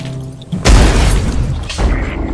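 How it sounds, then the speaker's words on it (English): A grenade blows up in the Abiotic Factor video game with a loud, sharp boom and shattering crash, followed by a second blast a moment later, both ringing out on their own. "Let me see if I can get it with this grenade."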